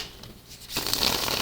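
Tarot cards being shuffled close up, a soft rustle that swells into a dense, loud riffling flutter halfway through.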